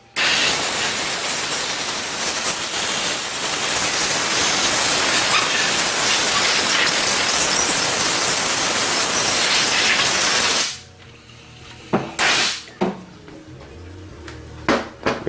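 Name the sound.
compressed air blowing out Honda transmission parts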